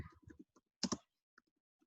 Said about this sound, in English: likewise I'm typing here.